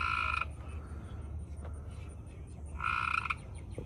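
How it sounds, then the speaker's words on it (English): A fairly large frog hidden beneath a chair gives two short croaking bursts a few seconds apart, moderately close and somewhat faint over quiet outdoor background. "Now there's a frog over here"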